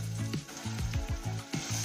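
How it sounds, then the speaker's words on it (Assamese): Ground masala paste frying with onions for a mutton curry sizzles steadily, while a rhythmic run of scraping stirring strokes repeats close by, about once every quarter second. "এইখিনি মছলা অলপ কেঁচা গোন্ধ নোযোৱালৈকে ভাজি লওঁ"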